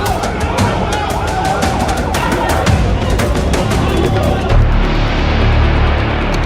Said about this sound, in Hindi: फिलिस्तीन के वेस्ट बैंक के इस अस्पताल के बाहर एक के बाद एक एम्बुलेंस फ्लैश